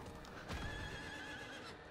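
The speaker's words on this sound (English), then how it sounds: "Yes, get off the horse" A horse in the Diablo 4 video game moves along with hoofbeats and lets out a drawn-out whinny, heard faintly under game ambience without talking.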